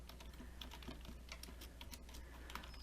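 Computer keyboard keys being typed as a message is entered while scheduling a Zoom meeting, a quiet steady patter of soft clicks over a low background hum, with no voice.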